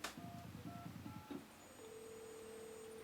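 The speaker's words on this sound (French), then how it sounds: "Voilà, le téléphone compose." A telephone dials out: a quick run of short alternating beeps over a low buzzing pulse, then a steady sustained tone as the line connects, heard clearly and alone.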